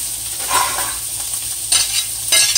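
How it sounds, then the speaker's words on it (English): Sliced peppers and onions sizzle in a frying pan with steady crackling hiss, punctuated by a few louder bursts as they are stirred, close up and without talk. "Here, sizzling over there in the pan."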